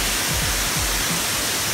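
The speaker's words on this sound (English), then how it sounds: "Still a nice waterfall though." Paradise Falls, a hidden waterfall in Ventura, roaring as a dense, steady broadband rush of falling water, loud and close and unbroken throughout, with no talk.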